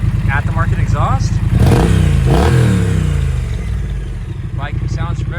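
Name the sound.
2019 Triumph Street Twin 900 motorcycle engine running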